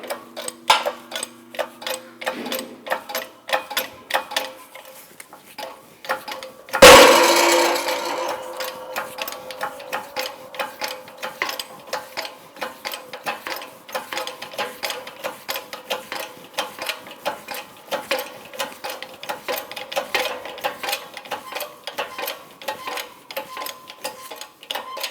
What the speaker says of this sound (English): All right, we have our press set up here. I'm going to go ahead and push this out.